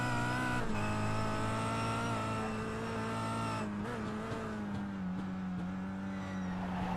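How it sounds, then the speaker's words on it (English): A European touring car runs through Old Hall corner in pre-season testing, its engine note holding a steady droning tone off the throttle for a long stretch before picking up again, loud and continuous with faint tire noise. "Listen how long you've got to be off the throttle around Old Hall."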